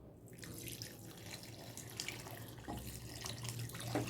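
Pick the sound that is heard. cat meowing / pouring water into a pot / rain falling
pouring water into a pot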